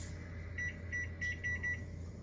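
A kitchen timer being set for ten minutes gives a run of short, bright electronic beeps in quick, uneven succession. They sound close and clear over a low, steady background hum.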